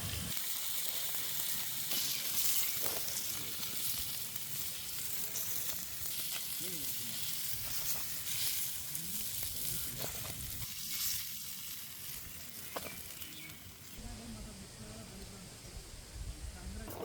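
Green masala fish fries on a hot tawa at a village-style outdoor cooking spot. A steady, close sizzle runs throughout, with occasional stirring or scraping and people talking over it.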